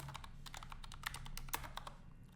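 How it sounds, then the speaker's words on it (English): Rapid typing on a computer keyboard, a steady run of close, crisp key clicks with a few louder strokes, heard alone with no talking. "So let's type that out."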